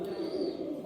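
An elderly, blind pigeon of around 22–23 years, kept by a breeder, coos steadily and close by, a low continuous murmur lasting under a second with no other sounds.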